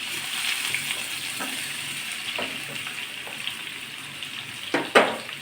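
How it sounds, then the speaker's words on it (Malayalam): Papaya slices sizzling in hot coconut oil, a soft continuous crackle broken by a few sharp clinks and a louder scrape near the end. "ഇത് കുറേശ്ശെ ഇട്ടാണ് വറുക്കാൻ പറ്റുള്ളൂ കുറേശ്ശെ ഇട്ട് വറുക്കാം"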